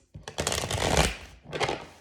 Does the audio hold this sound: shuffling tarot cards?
yes